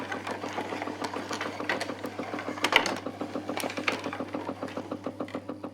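Wooden mechanical parts of a laser kaleidoscope machine moving, a quiet steady mechanical whir with fast, regular clicking and rattling like a sewing machine, faint and continuous with no talking.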